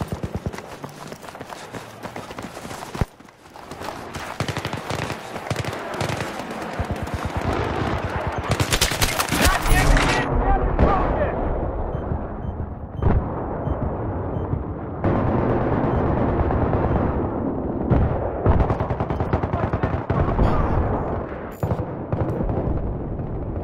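Heavy gunfire from a Battlefield 3 conquest match, with dense automatic bursts, sharp shots and explosions packed together across the whole stretch, loud and close throughout.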